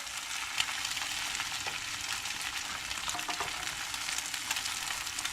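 Food sizzles loudly and evenly in a frying pan during a homemade fast-food-style breakfast, a dense steady crackle with a small clink or two as it is stirred and flipped, no talk.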